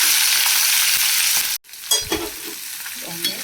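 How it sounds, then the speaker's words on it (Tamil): Onions fry in hot oil with cinnamon and cloves, sizzling loudly for a moment before a sudden break, after which softer sizzling continues with scraping and clattering as the pan is stirred. "நல்லா ஃப்ரை பண்ணிக்கலாம்."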